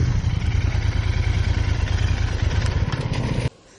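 Royal Enfield Interceptor 650 motorcycle being ridden, its twin-cylinder engine giving a loud, steady throbbing rumble that cuts off abruptly near the end.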